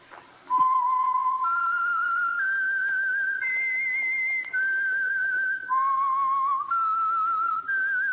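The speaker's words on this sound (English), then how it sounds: "the signal to listen for is this whistle that identifies the Signal Oil program" Someone whistles a slow, eerie melody of sustained, gliding notes, the theme of the Signal Oil radio program The Whistler, clear and prominent against a quiet background.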